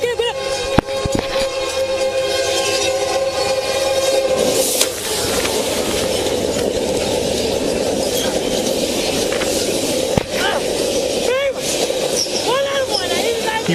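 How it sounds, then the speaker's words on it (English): Train on the tracks closing in on a wheelchair stuck on the rails, a loud sustained rumble with a horn blast and sharp clanks, heavy and near. "A wheelchair trapped on the tracks, a train closing in."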